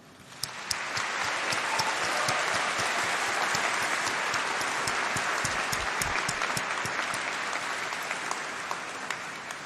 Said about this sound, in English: let's give a round of applause and a huge cheer to say thank you for all your supporters